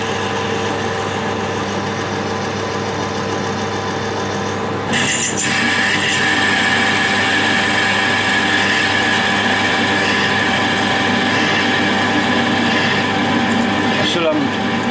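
A lathe parting tool with a high speed steel blade cuts steadily, a loud continuous grinding hum with a tonal whine, and a sharp shift in pitch about a third of the way in.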